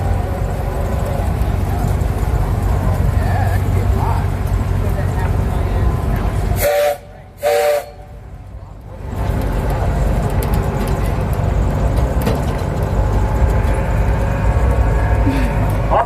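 A tourist train rolls through an Arizona cactus park, a steady loud rumble of wheels and engine close by, briefly dropping out midway before resuming.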